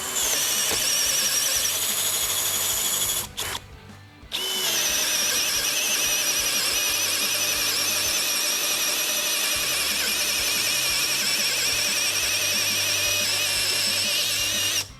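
A STARK CD 18-2 B cordless Li-ion drill-driver drills steadily with a loud, continuous high motor whine. It stops briefly near the start, then runs on unbroken. No voices.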